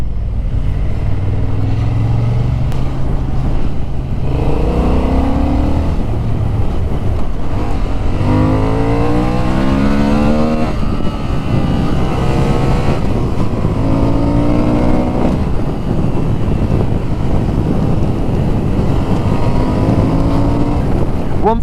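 A 2025 Honda Hornet 750 middleweight motorcycle's engine revs up through the gears on a ride, rising and falling pitch sweeps over steady wind roar.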